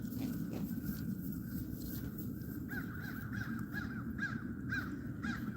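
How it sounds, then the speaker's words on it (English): Crows caw repeatedly over steady low outdoor rumble, a run of harsh calls that grows more frequent toward the end, moderately distant. "Y'all hear the crows?"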